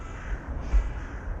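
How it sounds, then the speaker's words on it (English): Birds squawk faintly in the distance over a low, steady outdoor rumble at Moat Mount Open Space, with harsh caws rising briefly midway. "You can hear the birds squawking."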